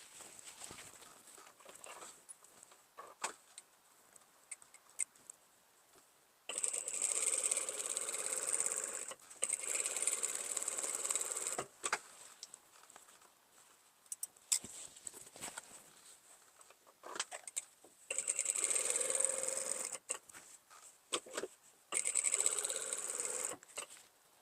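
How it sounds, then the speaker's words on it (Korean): A sewing machine runs in several bursts of rapid stitching, separated by quieter pauses with handling noises, close by. "재봉틀 땀수를 원래대로 돌려주고요"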